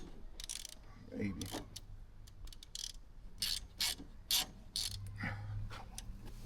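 Ratchet clicking while tightening a threaded bolt on a car being made highway ready, quick uneven bursts of pawl clicks and metallic rubbing, close, with some background noise.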